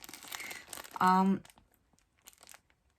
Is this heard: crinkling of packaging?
yes